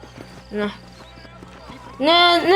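Horse hooves clip-clop in Red Dead Redemption gameplay, a steady near trot of hoofbeats with a horse whinny rising near the end and someone talking over it.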